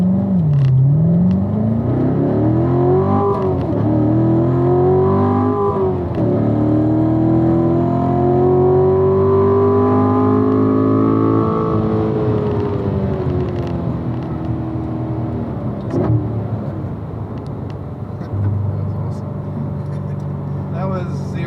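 A car accelerates hard from a standstill up to about 107 mph on a freeway, using three gears, its engine note climbing steeply, dropping at each upshift, then rising again, loud and close from inside the cabin.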